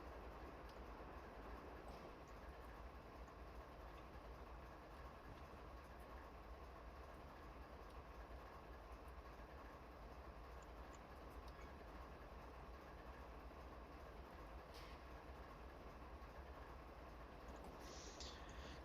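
A train rolls steadily along the rails at low speed, a continuous broad rumble with rail noise that holds even and moderately close for the whole stretch, with no talking.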